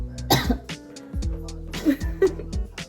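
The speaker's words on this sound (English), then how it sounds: "What are you coughing at?" Several short coughs close by, mixed with laughter and bits of talk in a room.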